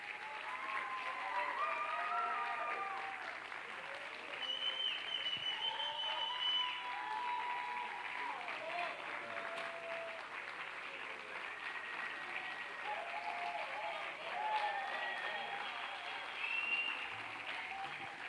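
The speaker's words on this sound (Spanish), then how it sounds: "Por favor, reciban el cariño y el aplauso del público." Sustained audience applause after a candombe drumming performance at a music event, a steady wash of clapping held for a long stretch, fairly distant and even, with faint crowd voices.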